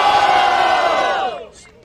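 A loud crowd at a freestyle rap battle, Batalha da Leste, cheers and shouts together in a sustained roar, then it drops off sharply and fades into scattered noise.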